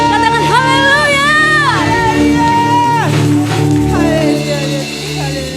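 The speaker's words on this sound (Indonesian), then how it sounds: "Sorak-sorak yang lebih meriah buat Tuhan kita yang dahsyat." A church congregation at a Sunday worship service cheers and shouts together, with loud whoops and calls over sustained music, and a strong voice rises above the crowd.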